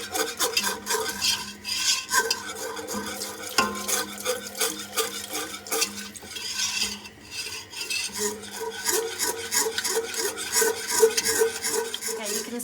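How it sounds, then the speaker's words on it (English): Steady stirring of a thickening cheese sauce in a pot for macaroni and cheese, with continuous scraping and rasping of a utensil against the pot, close and moderately loud, without speech. "I've been stirring off and on for about 5 minutes, and see how it's getting thicker."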